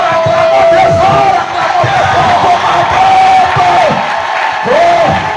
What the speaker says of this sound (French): Alors acclamons très fort